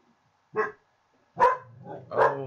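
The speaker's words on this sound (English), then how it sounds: "Gotta love when the oldest dog decides to imagine somebody at the front door." An older dog barks at the front door at nobody there: two short, sharp barks a moment apart, then a longer whining, growling bark, close and clear in a quiet room.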